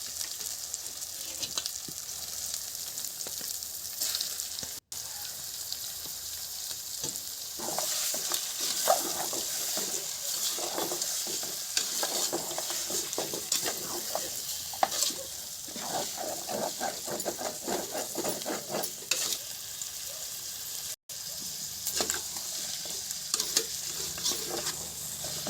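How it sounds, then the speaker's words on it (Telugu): Mutton pieces stirred with onions in a kadai for a village-style curry, a steady frying sizzle with scraping stir strokes throughout, close and fairly loud, no talk. "నెక్స్ట్ ఇందులో మటన్ ముక్కలు వేసుకొని కలుపుకోవాలి."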